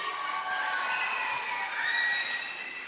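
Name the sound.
audience clapping and cheering for a performer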